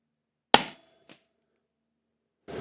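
A Ruger American rifle in 300 Blackout fires a single Hornady 190-grain round at a 100-yard range: one sharp, loud crack, a faint distant impact knock a half second later, then another burst at the very end.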